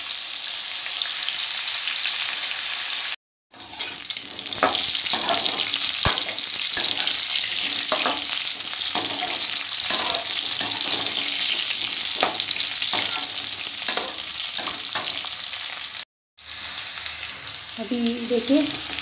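Jackfruit pieces fry in hot oil in a pan over a medium gas flame, giving a loud, continuous sizzle with occasional stirring scrapes, broken by two brief silent cuts.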